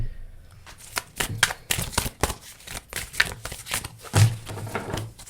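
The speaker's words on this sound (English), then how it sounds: "And I'm shuffling." Tarot cards are shuffled in a rapid series of crisp riffling bursts and slaps, close and fairly loud, with a soft voice briefly underneath.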